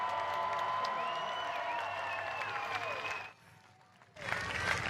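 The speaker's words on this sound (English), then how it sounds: "Everyone give a round of applause for Kyle Rector." Spectators at a night demolition-style racing event clap and cheer for driver Kyle Rector, a continuous crowd roar that briefly drops away before bursting back up loudly.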